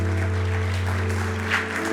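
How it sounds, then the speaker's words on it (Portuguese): Applause from a church congregation during a sermon, a steady wash of clapping throughout that sits over a loud, sustained low keyboard or organ drone. "Aplauda Jesus."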